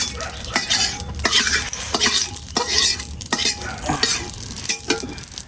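Oil sizzles in a hot karahi pan, with a bright, constant hiss broken by repeated scraping stirs of a utensil against the metal, close and loud with no talk.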